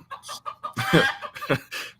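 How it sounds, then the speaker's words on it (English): Several roosters crow loudly in overlapping calls, mixed with bursts of clucking from nearby fowl; no talking. "got these roosters just being loud."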